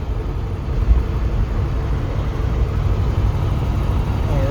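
A 1966 Corvette pulls away in fourth gear, its engine a steady low rumble that holds at an even level throughout with no gear changes.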